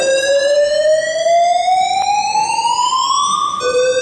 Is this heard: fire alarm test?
yes